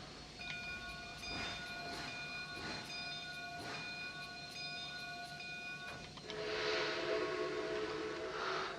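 Steam locomotive in Trainz, a Canadian Pacific H1a/H1b Hudson or Empress 2816 with tender, pulling in with a steady rhythmic chuff and a sustained multi-tone whistle, then a louder burst of hissing steam near the end.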